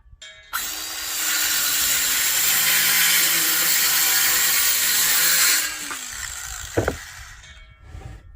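A power saw cuts through a wooden 2x4 during a shed refurbish, spinning up sharply and whining loud and steady for about five seconds, then winding down, followed by a short knock.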